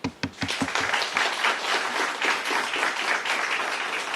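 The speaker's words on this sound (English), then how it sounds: "I think our students deserve an astounding round of applause." An audience applauds students at the official release of 2024 May-June CXC examination results in Dominica, opening with a few sharp individual claps that swell into loud, sustained, dense clapping.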